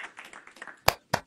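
Two sharp hand claps, close and loud, come after a stretch of soft murmuring chatter in a room of people following the Perseverance rover landing on Mars.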